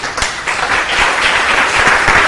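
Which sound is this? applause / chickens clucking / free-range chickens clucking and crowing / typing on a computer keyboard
applause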